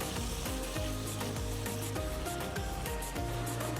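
Cumin paste, ginger paste and ground coriander sizzle in oil in a pan while being stirred for a vegetarian paneer dish, a steady close frying hiss with repeated soft scraping strokes, no talking.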